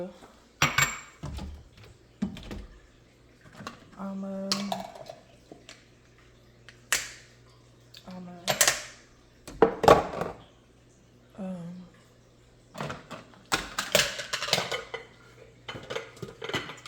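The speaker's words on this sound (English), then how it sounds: "I am about to do these dishes." Dishes being washed: pots, pans and cutlery clink and clatter in irregular bursts, some sharp and close, with brief pauses between handling sounds and a low steady hum underneath.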